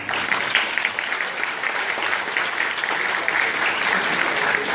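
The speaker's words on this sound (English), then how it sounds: "May we welcome our classical singers from Prayag with a huge round of applause." Dense, steady audience applause welcoming classical singers at a school annual day event, a continuous wash of many hands clapping throughout without letup.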